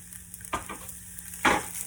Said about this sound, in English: So I'm gonna go ahead and add the Italian sausage to that.